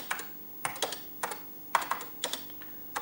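Someone types a program listing on the keyboard of a Pioneer PX-7 MSX computer, giving close, crisp keystrokes in irregular clusters with brief gaps and no talking.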